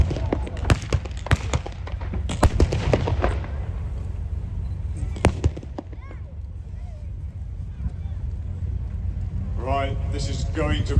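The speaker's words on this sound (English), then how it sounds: "Incoming fire." Reenactment gunfire at Tankfest 2024, a military vehicle show: a cluster of sharp, loud blank shots and bangs in the first few seconds, one more crack near mid-clip, then a steady crowd and engine rumble underneath with a voice at the end.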